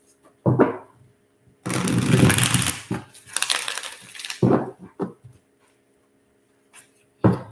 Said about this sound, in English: Let me shuffle this.